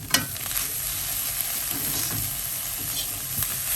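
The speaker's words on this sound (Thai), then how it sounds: "เอาสับปะรดลงค่ะ สับปะรดครึ่งหนึ่งพอ อ่าโอเค ผัดไปเรื่อย ๆ ค่ะ" Pineapple being stir-fried into salted fish fried rice in a wok, a continuous loud sizzle with scraping stirs and a sharp clank near the start.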